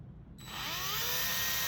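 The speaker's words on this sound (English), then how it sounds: "Remember that you're drilling through metal." A power drill bores through metal, the motor spinning up after a brief pause and holding a steady, loud whine with grinding bite as the bit cuts the sheet for a piercing hole.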